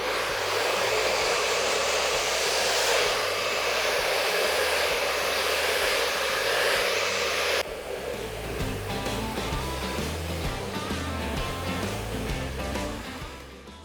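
Hair dryer blowing on a man's long hair during a haircut, a loud steady roar that shifts in tone partway through as the airflow moves, with no talking.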